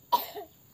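A single short cough bursts out close by, then trails off quickly into quiet, heard during an outing to a durian stop in Sukaraja, OKU Timur.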